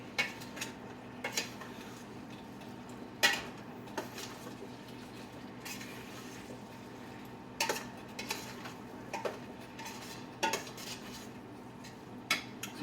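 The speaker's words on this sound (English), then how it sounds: "Stir it all up." A utensil scrapes and knocks against a pot while collard greens with pineapple are stirred, giving sporadic clinks and taps over a quiet background.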